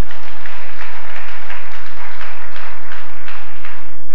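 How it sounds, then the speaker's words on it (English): A church congregation claps for Jesus Christ in steady, dense applause that keeps going, loud and filling the room. "Clap your hands for Jesus Christ."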